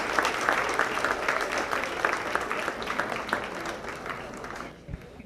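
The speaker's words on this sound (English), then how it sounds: "please put your hands together for another round of applause." Audience applause at a county fair dairy showmanship event, a dense steady patter of many hands clapping for about five seconds before fading out abruptly near the end.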